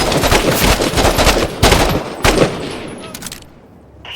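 Rapid automatic gunfire in a video game rattles in loud, close bursts, with a few heavier cracks, then it tapers off into quieter trailing sound near the end.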